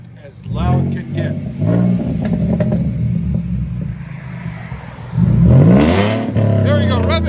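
A 2016 Ford Mustang V6 with straight-pipe dual exhaust revs hard several times, loud and close, its growl rising and falling in throaty bursts.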